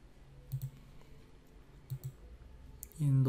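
A computer mouse gives two quick, quiet double-clicks about a second and a half apart, close by in a still room, and a voice starts speaking just at the end.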